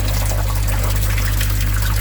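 Water overflowing through a slot in an aquarium filter into an outer chamber, a steady close trickling and splashing over a constant low pump hum.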